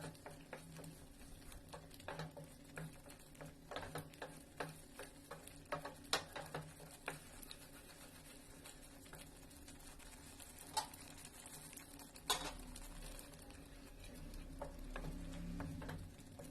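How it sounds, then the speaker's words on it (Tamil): Paneer gravy with fresh cream and added water bubbling in a pan, a quiet steady simmer with scattered soft pops and ticks, faint and close, with no voices. "இது கொஞ்சம் நல்லா பாயில் ஆகட்டும்."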